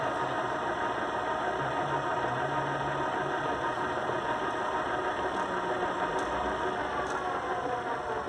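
CAME AXO 5024 gate motor runs a closing cycle, a steady, even mechanical hum with constant vibration and a couple of faint high clicks near the end, no talking.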